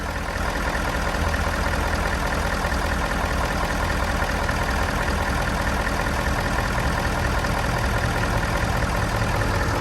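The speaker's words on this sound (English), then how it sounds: "Engine looks and sounds really clean." A 2016 Ford F350 flatbed pickup engine idles steadily and loudly, a constant low rumble with no other sounds.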